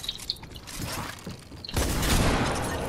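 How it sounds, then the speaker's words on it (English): Gunfire in a battle royale game: a few sharp distant shots and clatter at first, then a sudden loud burst of dense, noisy firing that continues steadily to the end. "There's someone else shooting at me though."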